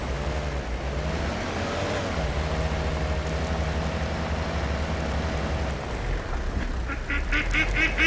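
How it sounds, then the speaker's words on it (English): Ducks quack repeatedly in the hunting video game Way of the Hunter, the calls sitting at mid distance over a steady low engine rumble from a vehicle, with a brighter burst of calls near the end. "More duck being noisy down there."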